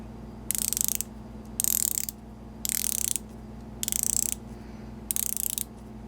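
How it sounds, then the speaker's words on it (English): Five bursts of rapid, crisp clicking from a rotating Squale 1521 50 Atmos dive watch bezel, evenly spaced with short pauses, close up over a steady low hum. "Bezel action on mine is stupendous. I'll shut up and let you hear it."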